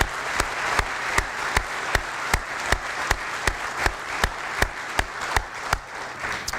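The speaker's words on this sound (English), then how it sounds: "please join me in a round of applause" A round of applause at a community breakfast event, where a loud, close clapper beats a steady, regular rhythm over a wash of crowd clapping in a room.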